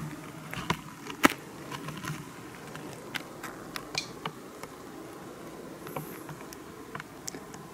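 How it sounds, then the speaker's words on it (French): Honeybees hum faintly around an open beehive during an inspection, a soft continuous drone dotted with small clicks and taps from the frames, quiet and close with no voices. "Donc là on voit les abeilles dans les ruelles."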